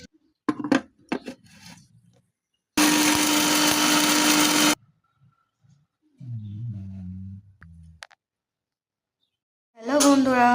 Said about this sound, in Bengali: সব ব্লেন্ডার মেশিনে এই সবগুলো ধরে দিলাম।